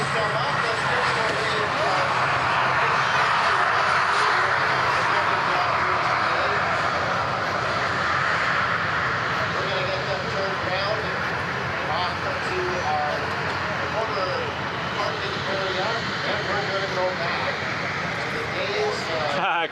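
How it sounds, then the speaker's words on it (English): A Boeing C-17 military transport aircraft at the London, Ontario airshow produces a loud, steady engine roar that holds throughout, with a voice talking over it. "Just gives you a little bit of idea of how big that C-17 is."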